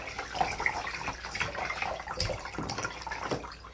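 Water runs steadily from a tap to fill a bath for puppies, a quiet, continuous splashing hiss with small drips and clinks, and no talking.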